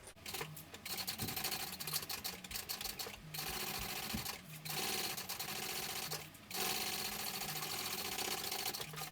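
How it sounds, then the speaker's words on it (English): A sewing machine stitches lining and a thick vinyl flap at full seam allowance, running in loud, close bursts of rapid mechanical whirring with brief pauses between runs, no talking. "we're going to sew this at our full seam allowance"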